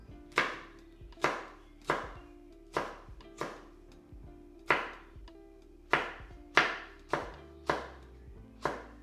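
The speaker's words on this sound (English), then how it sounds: "I suppose we'll chop our chilies." A knife chopping chilies on a cutting board while making homemade chilli mayo, about a dozen crisp, evenly spaced chops at a steady rhythm, close and clear with no talking.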